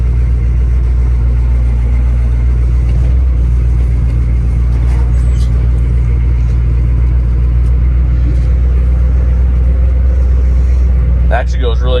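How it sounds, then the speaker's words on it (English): An LBZ Duramax dually pickup drives around the block, its diesel engine a loud, steady low rumble heard close from inside the cab throughout. "I'm gonna take it for a quick ride around the block and park it behind my LBZ."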